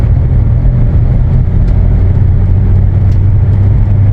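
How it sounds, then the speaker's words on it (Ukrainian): A BMW E61 530d diesel with a modified intake manifold, heard from inside while driving in town as the gas pedal is pressed, a loud, steady low engine drone with mild rising load, no talk. "Дивіться, я нажимаю на педаль газу."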